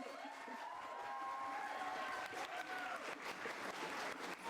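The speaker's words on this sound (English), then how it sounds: "Can we please get a round of applause?" Audience applause after a student reporters' panel on covering NYC schools, a moderate crowd clapping steadily with scattered cheers, while faint tonal sounds drift underneath.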